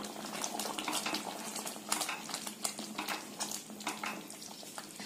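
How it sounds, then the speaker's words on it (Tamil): Broken wheat payasam with ghee and milk being stirred in a pot, spoon scraping and clinking in quick irregular strokes over a soft bubbling simmer, close and fairly loud, no speech. "நல்லா கலக்கி விடுங்க."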